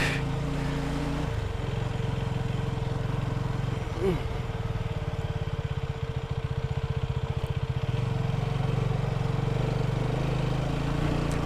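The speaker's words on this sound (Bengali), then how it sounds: "আমার বাইকে কিন্তু তিনজন বুঝছেন তবুও দেখছেন কত ইজিলি এই খাদ মাত পার হচ্ছে" A motorbike carrying three people crosses a ditch in a tea estate, its engine chugging steadily up close with a rhythmic throb through the middle, while a voice talks over it.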